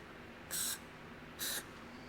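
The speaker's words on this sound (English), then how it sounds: "let's hit it with a little spray." Two short hissing bursts of aerosol spray onto a vintage Honda CB350 motorcycle engine, each about a quarter second long, close and fairly loud, separated by a brief pause.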